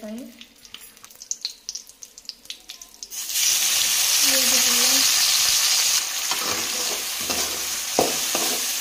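Chicken and potatoes frying in hot oil give a loud, steady sizzle that begins abruptly after a few seconds of quieter kitchen clatter, with occasional stirring knocks near the end.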